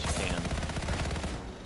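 A huge weapon fires its ultimate ability in the video game Anthem, a dense, continuous roar of rapid blasts that stays loud and close before easing off slightly at the end.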